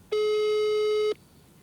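Telephone busy signal heard while a call is placed: one loud, steady electronic beep lasting about a second, clean and alone, then low background hiss.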